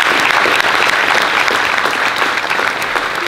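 Loud, dense audience applause at a talk, continuous clapping from a crowd filling the short stretch without pause.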